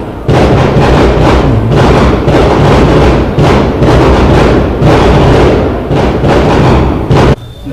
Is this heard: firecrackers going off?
yes